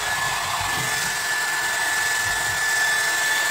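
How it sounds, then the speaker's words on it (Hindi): An Alpina Rotocurler blow dryer runs steadily with a loud, constant whooshing airflow and a thin high motor whine, close by and alone with no talking. "आप इस ब्लो ड्रायर को जो है वो यूज़ करेंगे। अब आप देखें मैं इसको ऑन कर रही हूँ"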